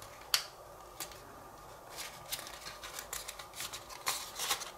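Paper being folded into the small points of an origami turtle shell, soft close crinkles and crisp taps scattered irregularly over a quiet background.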